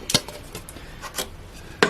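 Cut carrots and celery stalks dropped into a cooking pot, a few sharp clattering thuds scattered over two seconds, close and clear, with a louder knock at the end.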